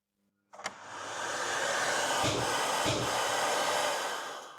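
A workshop vacuum cleaner, switched on by a wireless remote switch, starts after a short click and quickly rises to a steady, loud whooshing roar that holds for several seconds with no talk over it.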